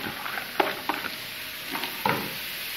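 Onion pieces hit hot oil in a pan, a blend of olive oil and ordinary oil, giving a close steady sizzle with a few sharp scraping stirs of a utensil against the pan.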